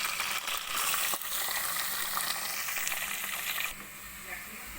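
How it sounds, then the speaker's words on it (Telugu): Onions frying in oil with curry leaves and green chillies for a fish curry, a loud continuous close sizzle with stirring scrapes and clicks that softens slightly toward the end. "అవి బాగా గోల్డెన్ బ్రౌన్ కలర్ వచ్చే వరకు కూడా మనం ఫ్రై చేసుకోవాలి"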